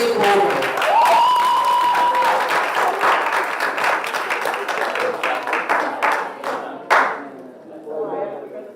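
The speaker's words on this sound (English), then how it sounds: "A round of applause from the Shortwood Teachers College." A debating championship audience claps in a sustained, dense burst of applause that gradually thins into scattered claps and murmuring, with a voice briefly heard amid the crowd.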